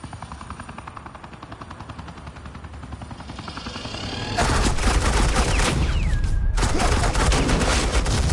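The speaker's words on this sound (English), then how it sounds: "Suppressing fire." Rapid suppressing gunfire from Batman: The Enemy Within: a steady, dense rattle of automatic fire that jumps much louder about halfway through, with a helicopter-like drone and a sweeping whine layered over the close barrage.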